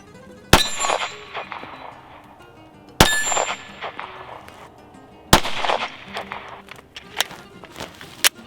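Three sharp, loud 9mm pistol shots at an indoor or range setting, spaced a few seconds apart, each a crisp crack with metallic ringing and clinking brass afterward; no talking.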